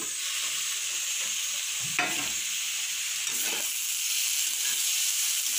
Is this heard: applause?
no